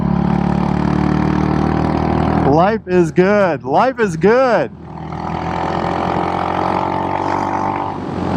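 A modified Royal Enfield Hunter 350 motorcycle engine drones under a man's speech, then it is revved open in several quick rising and falling bursts before settling back into a steady riding hum.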